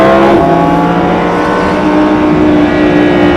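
A Lamborghini sports car engine roars at full throttle on a racing circuit, its pitch climbing steadily and loudly throughout, with no voices.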